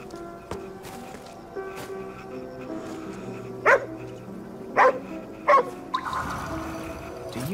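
A dog in the video game GhostWire Tokyo gives three short, loud barks spaced a second or so apart, over eerie ambient game music with low drones.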